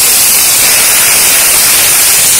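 Ginger paste sizzling in hot oil, a loud, dense, steady hiss that stays close and unbroken throughout.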